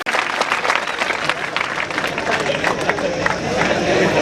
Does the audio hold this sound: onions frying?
no